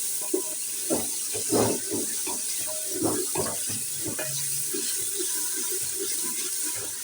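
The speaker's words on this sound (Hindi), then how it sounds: "अब हम इन टमाटरों को भी भूनेंगे इसके साथ" Chopped onions and tomatoes frying together in a pan for a bone and meat curry, a soft continuous sizzle with scattered stirring clatter, moderately close and fairly quiet.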